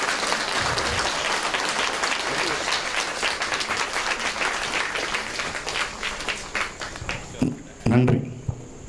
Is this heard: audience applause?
yes